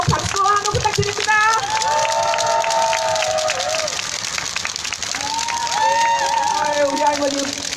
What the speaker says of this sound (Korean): 여러분도 꽃다발을 함께 드리는 마음으로 박수와 환호 부탁드립니다